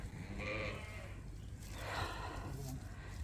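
Sheep bleat in a long lambing barn, with two drawn-out calls rising over a steady low background hum, moderately near, while a person's voice is faintly present in the space.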